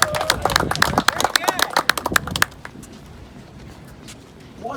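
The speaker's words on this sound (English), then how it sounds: "One more round of applause for him." A round of applause from a gathered group at a tennis dedication and reunion event, loud sharp claps for a couple of seconds that end abruptly, followed by quiet room tone.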